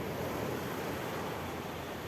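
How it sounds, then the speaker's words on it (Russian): Soft Black Sea waves at Kudepsta beach wash in a steady, gentle hiss, with a light wind rush over the shore and no voices. "Смотрите, тихая волна."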